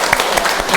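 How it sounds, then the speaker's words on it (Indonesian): Brief burst of classroom clapping from young pupils after a Kepala Pundak Lutut Kaki song, a quick patter of hands lasting under a second. "Tepuk tangan dulu."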